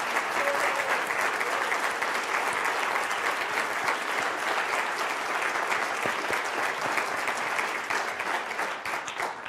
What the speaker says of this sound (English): have the program committee members stand up and get a well-deserved round of applause for your work